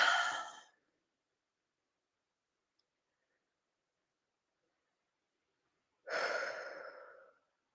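Two deep breaths while someone settles and centers themselves, a long exhale at the start and a fuller breath a few seconds later, close and soft with silence between.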